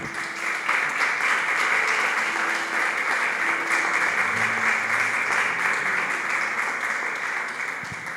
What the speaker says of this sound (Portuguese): você pode dar uma salva de palmas para Ele?